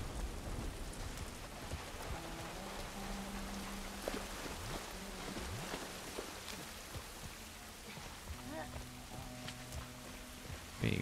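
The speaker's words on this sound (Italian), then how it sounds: "Però piove ancora, non è vero che non piove più." Heavy rain falls in The Last of Us Part I, a dense continuous downpour with low rumbles and scattered tonal game sounds underneath, and no voices.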